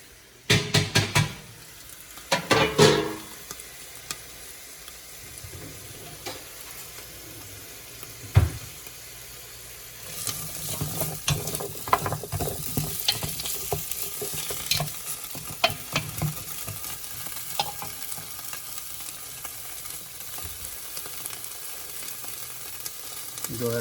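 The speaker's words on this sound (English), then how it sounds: "I like to get my veggies a little bit of a saute before we put the rest of the stuff in there." Vegetables sauté in hot oil in a pot, the start of a fish head soup: a few sharp clattering stirs at first, then a steady close sizzle with repeated scraping and stirring, and no voices.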